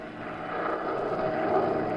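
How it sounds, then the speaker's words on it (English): A small plane flying through a storm, as a radio drama effect: a steady engine drone that rises slightly and holds at a fairly loud, even level. "The little plane rocked, rolled, and practically stood still in midair."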